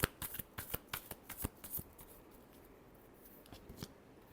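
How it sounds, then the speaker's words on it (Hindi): A deck of tarot cards is shuffled for an Aries reading, quick close riffling snaps for about two seconds, then a few scattered soft taps fading into quiet, with no speech. "Last shuffle."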